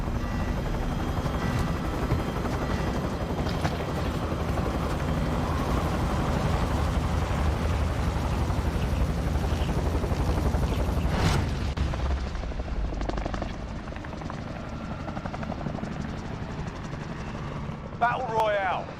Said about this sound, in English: Oh, we're on helicopters.